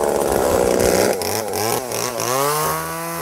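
A chainsaw carves a wood sculpture from a tree stump at a playground, running loud and close, with its engine pitch dropping and rising through several revs and bogs as it bites into the wood.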